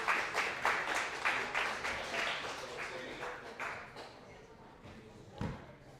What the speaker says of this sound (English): Gets an applause from the audience.